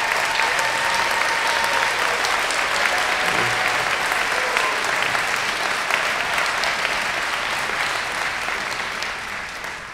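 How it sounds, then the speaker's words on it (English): A commencement audience gives sustained applause for school volunteers, a dense, loud wash of clapping from a large crowd in a hall that holds steady for the full stretch and only starts to thin at the very end. "stand for a round of applause as well"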